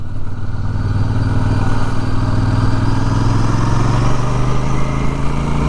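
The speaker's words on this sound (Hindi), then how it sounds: "बैठने के बाद जो एक राइडर को एग्जॉस्ट नोट सुनाई देता है वो अलग ही एक्सपीरियंस है" A Royal Enfield Super Meteor 650 motorcycle engine and exhaust drone steadily and loudly from close by while riding, with a continuous low rumble that rises slightly in pitch toward the end.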